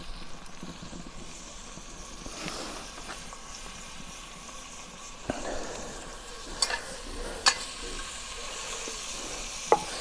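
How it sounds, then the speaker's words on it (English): Steady sizzling of beef on a hot kamado grill, a continuous crackling hiss with a few sharper pops and clicks near the end. "you can hear that starting to sizzle."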